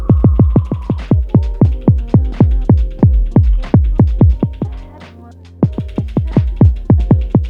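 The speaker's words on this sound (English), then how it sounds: "this adds overdrive to the signal" An Elektron Digitakt playing a fast repeating synth kick-like pulse with overdrive applied, loud throbbing thumps in a steady rhythm that briefly drop out before resuming, no talk.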